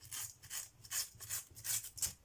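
Scissors cut along a sheet of paper for a homemade envelope, each snip a quick rasping rub that repeats in a rhythm of about six strokes, close and fairly quiet with no voices.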